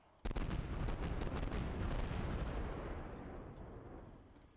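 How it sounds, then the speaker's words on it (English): Heavy gunfire and artillery-like blasts in the Steel Beasts Pro PE tank simulator, a sudden loud onset of several sharp cracking shots followed by a long rumbling roar that slowly fades. "We're taking fire here."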